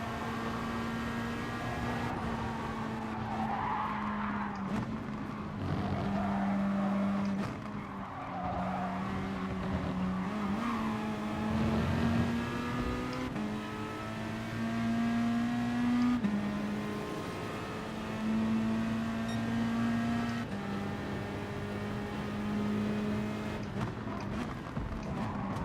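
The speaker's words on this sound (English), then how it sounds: "Our Toyotas are very fast on straights." Toyota race cars speed around a track in Gran Turismo Sport during an FIA Manufacturers Cup race, steady engine drones rising and shifting pitch with gear changes, accompanied by intermittent tire skids, moderately loud and without talk.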